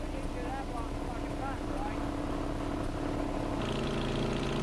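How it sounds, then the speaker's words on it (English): A gasoline engine powering the pump and auger of a street crack sealant machine runs at a steady, close, droning idle with a constant low hum throughout. "Both the pump and auger are powered by a gasoline engine."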